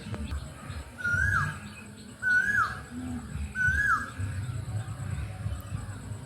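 An Asian koel calls in Mithila during mango season, repeating three clear, rising-then-falling whistled notes at an even pace, fairly distant and faint over a low background rumble.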